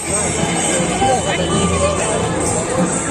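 Steady babble from a large crowd gathered at a Saraswati Puja celebration in Paschim Medinipur, many overlapping voices blending into a dense, continuous hubbub.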